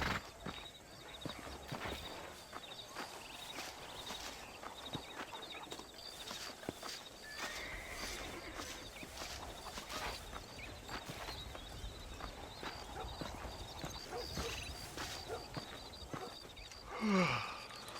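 Horse hooves clip-clop at a steady walking rhythm in the Red Dead Redemption video game, faint and continuous under ambient game sounds, with a brief louder rustle near the end.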